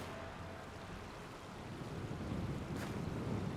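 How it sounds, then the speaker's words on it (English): Flowing water in the Skyrim video game, a steady broadband rush that swells slightly louder toward the end, heard alone with no talk. "It's water I'm hearing."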